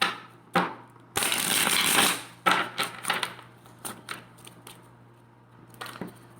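Close riffle and shuffle of a tarot deck: a long burst of shuffling followed by several shorter flutters and taps of cards being squared.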